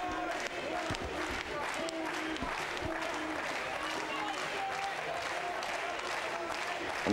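A boxing crowd cheers and applauds for German challenger Rudiger May during a title fight, a dense, steady roar of claps and voices heard from within the arena.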